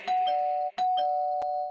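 Bright bell strikes ring out in a Durga Puja devotional song, a sustained metallic tone struck a few times in quick succession, loud and close with little else beneath it.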